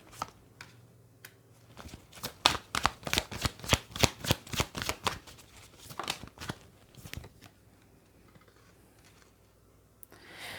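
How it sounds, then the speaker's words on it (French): Playing cards are shuffled and dealt onto a surface in a quiet room: a rapid burst of crisp riffling slaps, then scattered softer snaps as cards are laid out one by one. "Alors, on va remettre 2 cartes."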